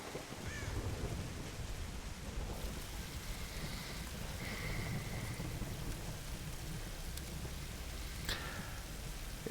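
Heavy rain pours steadily in a Tomb Raider game scene, with low rumbling thunder rolling underneath and a few brief brighter cracks standing out over the constant downpour.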